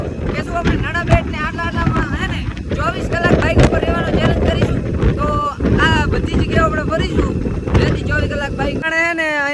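Loud, buffeting wind roar against the microphone while riding a motorbike, with a voice talking over it throughout.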